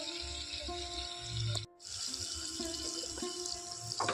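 Grapes fried in hot oil are dropped into a bowl of cold water, producing soft watery sloshing and trickling with a brief pause, quiet and close with no one speaking.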